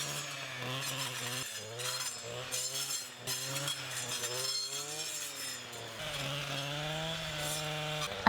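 A power tool cuts in a garden at a Swedish country house, a fairly faint, rough buzzing that rises and dips in repeated strokes and never fully stops.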